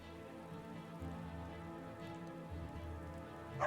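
Steady rain pours down on the town of Riften in the video game Skyrim, a continuous dense hiss with no voices, holding even throughout and swelling slightly louder at the very end.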